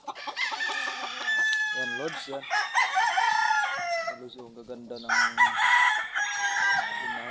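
Hens and a rooster in a backyard flock during breeding season cluck and crow, with loud, close, ragged calls and a long crow, while someone talks quietly underneath.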